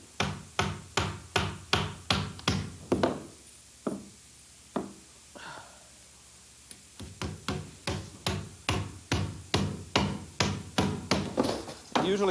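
Hammer blows toenailing nails at an angle through a wooden stud into the bottom plate, in runs of quick sharp strikes, one pausing for a few seconds before a second run resumes, close and clear.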